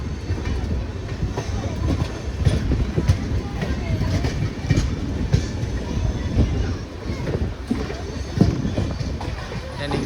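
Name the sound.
passing express train on shared track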